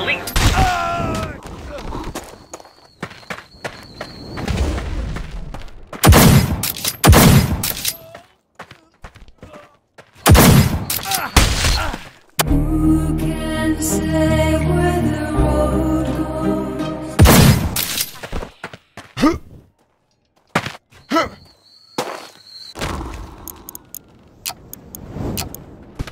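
Gunfire from a gun in the VR combat game Blade and Sorcery, heard as loud, sharp bursts of shots with metallic clatter, broken up by spoken lines and a stretch of music.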